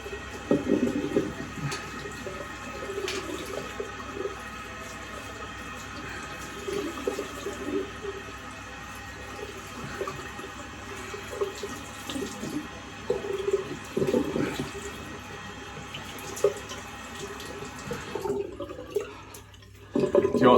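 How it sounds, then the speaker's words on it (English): A shaving brush is rinsed under a running tap at a bathroom sink after a head shave, with a steady close stream of water and intermittent splashes and drips. "We'll rinse my brush out."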